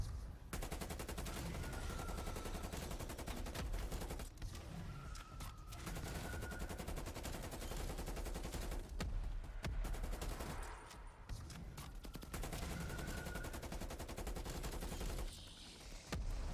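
Sustained automatic weapon fire in the video game Cold War Zombies, a dense, continuous fusillade of rapid shots that breaks off only briefly a few times and then resumes.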